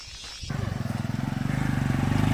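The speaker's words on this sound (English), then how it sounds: "it's almost no noise except for the occasional motorbike that passes by" A motorbike passes on a road along a hillside hiking trail in Koh Samui, arriving abruptly with a loud, pulsing engine drone that stays close and grows slightly louder.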